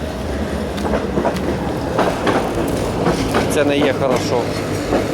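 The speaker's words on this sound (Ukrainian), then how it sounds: "Ось по людей поїхав трамвайчик." A tram rumbles past with a steady low roar and faint rail clatter, a voice talking over it.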